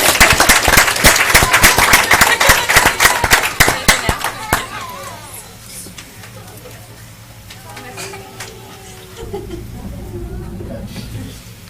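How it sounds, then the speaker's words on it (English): A board of trustees meeting audience breaks into dense, loud applause as a new police officer is introduced; the clapping fades after about four seconds, and voices talk over a quieter room. "Yeah, I like the clapping."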